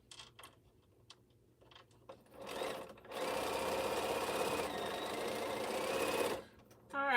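A sewing machine stitches a T-shirt quilt in a home studio, a few short bursts of needle clatter giving way to a long, loud, steady run of several seconds, then stopping before a brief restart.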